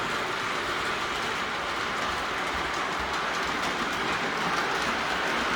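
Two Lionel O gauge model trains run together on a home layout, giving a steady, continuous rolling rumble and faint wheel clatter throughout, close and unbroken, with no voices.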